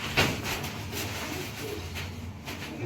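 Pigeons from a homing and breeding loft coo in low, soft murmurs, a steady cluster of close calls over faint background noise throughout.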